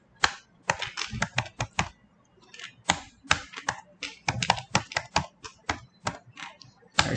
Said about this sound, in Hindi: तो पहले मैं एक प्रोग्राम लिख लेता हूँ।